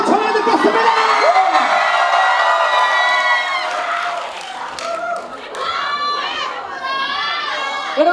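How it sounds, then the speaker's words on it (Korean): A university crowd at a campus TV visit erupts in loud, sustained cheering, whoops and shouting, the roar staying dense throughout with excited voices rising over it. "박수로 청해듣겠습니다"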